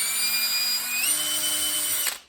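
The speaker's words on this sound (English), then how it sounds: "I can drill some holes." Power drill boring holes in a small build project, a steady high-pitched motor whine with a slight pitch rise midway, running continuously close up and then cutting off abruptly near the end.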